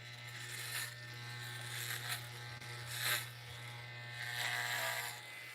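An electric shaver buzzes steadily while running over the back of a head during a home head shave, close and constant, with its pitch and loudness swelling as the blade presses into the hair.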